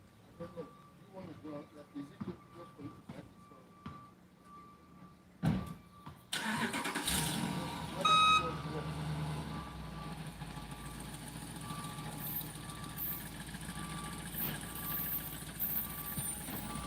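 A truck engine cranks and catches with a sharp start, then settles into a steady, fairly loud idle and moves off in a driveway during sealing work, after a stretch of nearby talking.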